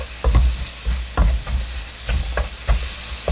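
Food fries in a pan with a steady sizzle, broken up by several sharp clanks and scrapes as it is stirred at a relaxed pace.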